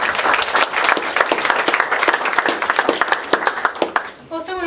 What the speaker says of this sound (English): they deserve a real round of applause for the hard work that they put in